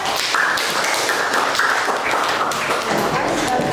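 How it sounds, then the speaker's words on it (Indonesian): Classroom applause for group 4 at an Indonesian middle school lesson, a dense patter of many hands clapping steadily throughout with voices mixed in. "Kasih tepuk tangan dong untuk kelompok 4"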